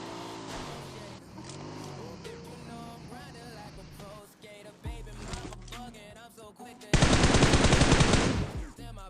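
Gunfire rattles through a squad fight in a battle royale video game, with scattered shots during busy game sounds and then a loud, sustained burst of automatic fire at the close.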